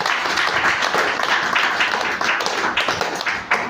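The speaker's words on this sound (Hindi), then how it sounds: "जरा जोरदार ताली उनके लिए।" A hall audience at a Hindi family talk claps together, giving a close, loud burst of dense hand claps that stays steady for several seconds without speech.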